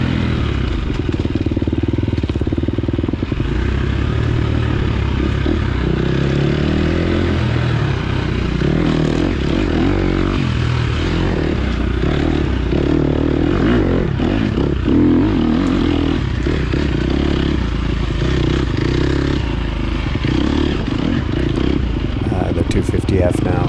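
A Yamaha 250F four-stroke dirt bike is ridden along a trail, its engine droning steadily and loudly close by with small shifts in revs, while someone talks over it throughout.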